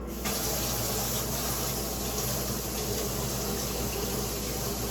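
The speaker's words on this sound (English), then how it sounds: "I'm about to empty this water out and put some cold water in there" Cold tap water runs steadily into a sink or container for a baby bottle warmer, a continuous close splashing gush at low level with no pauses.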